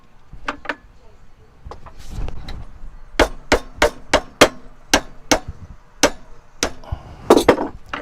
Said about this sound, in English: you can put it on your anvil and you can hammer it down where you want it to.